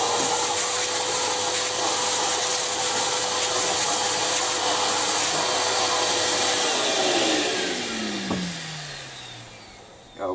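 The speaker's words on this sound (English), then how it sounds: "I'll just go to position 1 and use it as a vacuum cleaner" A Hyundai HYVI3014 wet and dry vacuum cleaner running in dry mode, a loud steady whine and airy roar that holds for several seconds, then winds down in pitch as the motor is switched off.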